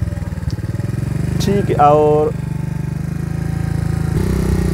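A motorcycle in third gear pulls away after the clutch lever is released quickly, its engine running steadily and close with a brief rising rev in the middle, while someone talks over it.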